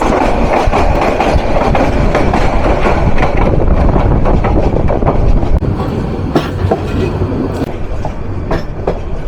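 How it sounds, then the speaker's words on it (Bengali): Rangpur Express passenger train number 772, running toward Dhaka, rumbles loudly and continuously, with rhythmic clickety-clack of wheels over rail joints and occasional sharp metallic clanks, heard close from on board. "রংপুর থেকে ছেড়ে আসা ঢাকা অভিমুখী train number 772 town Rangpur express."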